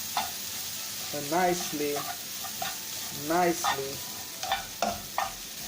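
Rice is stirred in a hot frying pan with soy sauce while cooking a Chinese omelette, giving a steady sizzle with repeated scraping strokes up close and a brief spoken phrase.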